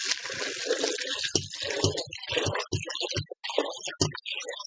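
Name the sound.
water rinsing garbanzo beans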